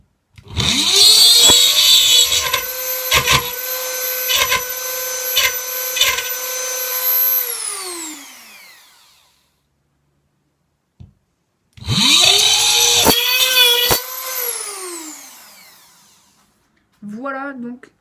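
A Dremel rotary tool spun up to 35,000 rpm drills into a metal stake with a loud, steady high whine. It runs for several seconds, cuts off and winds down, then starts again for a second burst before another spin-down.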